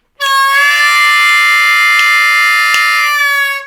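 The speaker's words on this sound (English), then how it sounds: "I'm playing a 4-draw bend, which I'm releasing up to a clean note" A harmonica in C plays a held 4-draw note, starting bent and released up to a clean, bright reedy tone, loud and sustained alone for about three seconds.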